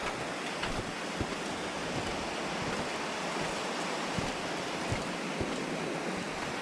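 Steady roaring headwind in a video game, a broad, continuous rushing blow at moderate level with no pauses, heard alone.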